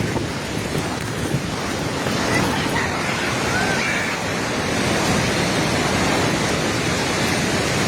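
A flooded Bhotekoshi river roars past in a loud, continuous rush of turbulent water, broadband and unbroken, with wind buffeting the microphone.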